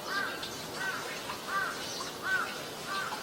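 A crow caws five times in an even, repeated rhythm, each call short and moderately loud against a quiet outdoor background.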